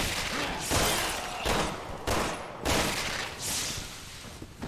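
Gunshots ring out in Resident Evil 6, a series of loud, sharp reports spaced roughly half a second to a second apart, each with a short reverberant tail over a busy background.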